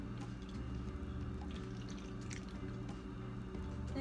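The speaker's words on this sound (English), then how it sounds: "And then I'm going to put the rest of this water." Water poured into a blender jar while making a green juice, a steady liquid splash and trickle with faint drips, fairly quiet and continuous, no talking.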